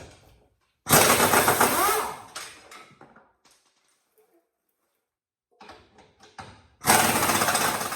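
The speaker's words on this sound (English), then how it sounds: "I'm going to go ahead and remove the 4 nuts with my impact gun using a 21 millimeter socket." Impact gun with a 21 millimeter socket zipping off bumper nuts on a Ford F-150 pickup, two loud rattling bursts of hammering close by, separated by quieter clicks and handling noise.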